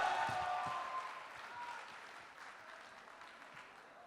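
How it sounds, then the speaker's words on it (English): An audience welcoming CA students applauding, a dense wash of clapping that starts full and slowly fades but keeps going to the end. "Welcome them with a loud round of applause."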